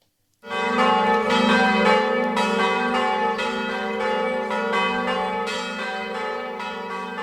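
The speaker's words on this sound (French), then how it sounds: "Elle sonne à toute volée, les cloches de Saint-Pierre." The bells of Saint-Pierre basilica ring out loudly and continuously in full peal, rich overlapping peals sustained after a sudden start.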